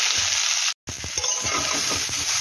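Beans and eggplant sizzle in a hot pan for a spinach ghonto while being stirred, giving a steady, loud frying hiss with light scraping and a brief dropout, and no talking.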